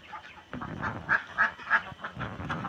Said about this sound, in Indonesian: Oh, ini loh bebeknya.